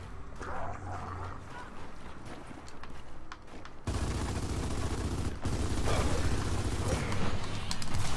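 Gears of War 4 multiplayer gunfire blends into a dense, roaring wash of battle noise that grows louder and fuller halfway through, with faint talk in the background.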